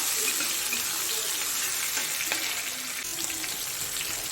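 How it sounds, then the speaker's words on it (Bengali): Ginger, green chillies and tomato frying in a pan for a Bengali dhokar dalna, a steady broadband sizzle holding throughout with a few faint clinks, no voices. "আর একটা টমেটো দিয়ে দেবো। দিয়ে একটু ভেজে নেব।"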